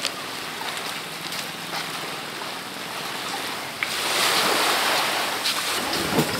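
Sea surf washing onto a tropical Thai beach, with steady broadband wash and wind rumble on the microphone and a louder surge of breaking water in the last few seconds, no one speaking.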